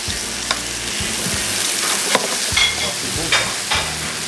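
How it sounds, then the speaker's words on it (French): Duck breast (magret) sizzling in a hot pan as raspberry wine vinegar goes in to deglaze, a constant frying hiss broken by several sharp spits and scrapes. "On déglace avec un petit peu de vinaigre de vin aromatisé à la framboise"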